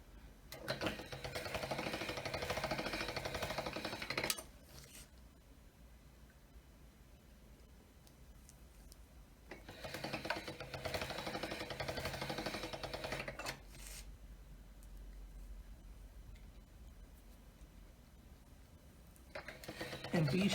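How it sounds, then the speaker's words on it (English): Polymer clay is fed through a hand-cranked pasta machine, giving two rolling, grinding passes of about four seconds each, separated by quieter handling noise, with a third pass starting at the end. "be sure to fold it each time that you put it through the pasta machine"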